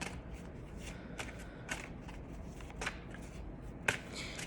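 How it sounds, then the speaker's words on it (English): Tarot cards are shuffled quietly close by, with soft riffling and light slaps of the deck in a calm indoor setting and no voices. "So let's pull some tarot cards and see where this is going for you"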